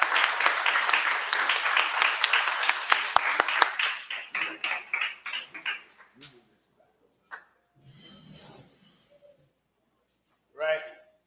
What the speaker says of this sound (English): I just want to clap it up for the parents again.